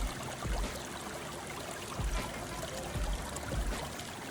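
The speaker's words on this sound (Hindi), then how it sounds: "ये बुनेर का सबसे मशहूर और सबसे खूबसूरत चश्मा है जो बनचीना के नाम से मशहूर है" Natural spring water in Buner flows steadily out of the ground, a soft continuous trickle and gurgle heard close but faint, with a few low thumps along the way.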